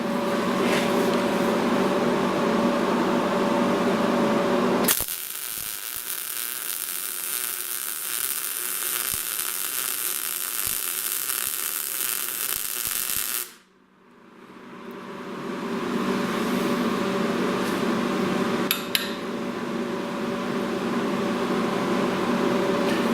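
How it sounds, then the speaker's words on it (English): Welding on a turbo elbow for a log manifold on a V8 Crossfire project gives about eight seconds of loud, steady crackling hiss over a workshop hum, followed by a brief sharp knock. "Now I'm going to burn some of these even edges in a little bit. And we'll beat her into place."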